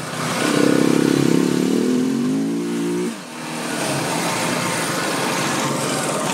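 KTM 690 Enduro motorcycle ridden off-road on knobby tires, its single-cylinder engine revving loud and close, rising and falling in pitch, then dropping to a steady rumble with broad wind and road roar.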